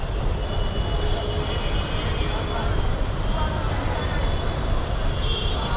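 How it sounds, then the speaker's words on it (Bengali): Ambience on a platform at Sealdah railway station with trains: a dense, steady rumble and hiss of rail noise that fills the whole stretch, with a busy mix of background sound throughout. "এই মুহূর্তে দাঁড়িয়ে রয়েছি শিয়ালদা স্টেশনে"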